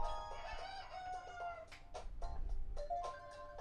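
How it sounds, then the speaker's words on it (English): Cartoon chicken and other animal calls from the Wii Party U Animal Matchup game, with short squawking bursts over game music and background noise. "Nice. Another chicken,"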